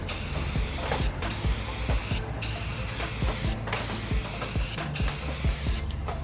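Spray paint hisses steadily from a can onto a canvas, long continuous bursts broken by brief pauses every second or so, close and loud with no talking.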